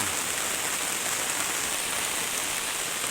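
Steady rain pours outside a monk's hut at a Thai temple just after the plants were watered, a dense, even hiss with no breaks, fairly close and alone, without voices.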